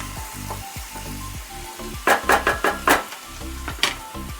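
Chopped tomato drops into a hot pan with radish and frying bursts into a loud crackling sizzle, with a quick run of sharp spatters and stirring knocks over a steady low background hum.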